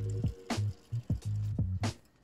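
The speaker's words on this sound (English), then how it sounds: "just gonna scoop up a little bit of water from each of my tanks" Water scooped from a home fish tank, a few wet slurping scoops and gurgling splashes in an irregular rhythm, close and fairly clear, with no talking.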